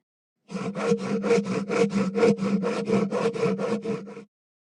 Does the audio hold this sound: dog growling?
no